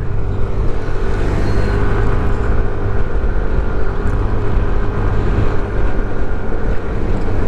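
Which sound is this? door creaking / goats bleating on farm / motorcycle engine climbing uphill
motorcycle engine climbing uphill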